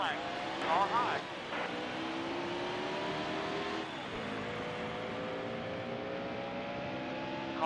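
Several NASCAR race car engines in the video game NASCAR Heat Evolution roar and rev together at a distance at the green-flag start at Richmond, pitches climbing and shifting as they accelerate, with a steady mechanical drone throughout.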